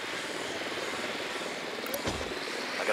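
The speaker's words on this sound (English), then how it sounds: "Deploying drone." A recon drone deploys in Ghost Recon Wildlands, its buzzing rotor whir running steadily under the game's ambient noise, with a brief whoosh near the midpoint and a rising swell toward the end.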